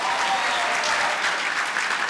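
Applause from a crowd at a Nigerian event fills the room in a dense, steady wash of clapping that holds at the same loudness throughout, with no one talking over it.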